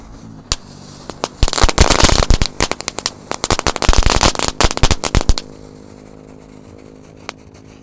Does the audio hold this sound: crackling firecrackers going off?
yes